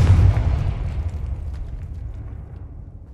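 A Confringo blasting spell explodes in the video game Hogwarts Legacy, a single loud, deep boom at the start that rolls off into a long rumbling decay.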